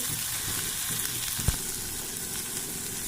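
Vegetables with turmeric, salt and spices frying in a pan, a steady close sizzle running throughout with a brief clack of stirring midway.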